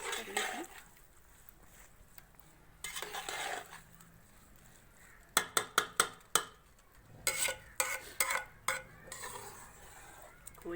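A spoon stirs and scrapes khoya roasting in a pan for ghee halwa in a village kitchen, with soft sizzling under muffled scrapes and a cluster of sharp metal clinks against the pan.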